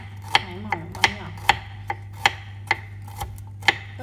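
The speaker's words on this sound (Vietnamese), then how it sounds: "băm nhỏ, thái mỏng băm nhỏ." A kitchen knife chops and minces garlic cloves on a cutting board for a cucumber salad: about nine sharp, evenly spaced taps, close up and clear, with a low hum underneath.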